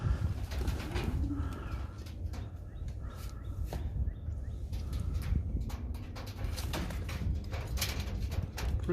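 Several pigeons cooing nearby on a roof in soft repeated bursts, with fluttering and faint clattering in the background.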